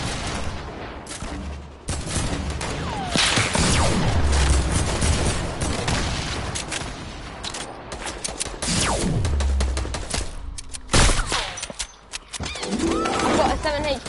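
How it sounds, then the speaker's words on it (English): Grenade launcher fire in a 1v1 online shooter game, dense bursts of explosions and gunfire rolling almost continuously, loud and busy, with voices talking over the action. "He's spamming that freaking grenade launcher and stuff."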